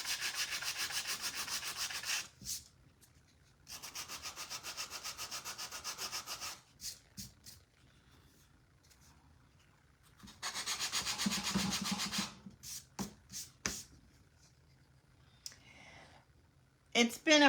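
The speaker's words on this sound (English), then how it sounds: "So I'm just going to use the edge of my sanding tool." Edge of a sanding tool rubbed on a small wooden scarecrow craft piece in bursts of quick back-and-forth scraping lasting a few seconds each, separated by quieter stretches with clicks and handling; a person talks softly in between.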